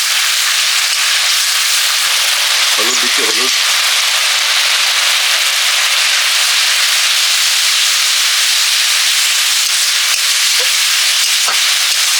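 Water splashed into a hot cooking pan during a home-style chicken curry preparation, giving a loud, steady, broad hissing sizzle of steam that carries on throughout, with a short voice briefly heard early on.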